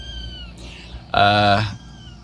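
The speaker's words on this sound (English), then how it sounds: "Here's my cat." A single loud, drawn-out cat meow rising close by, preceded by quiet background hum.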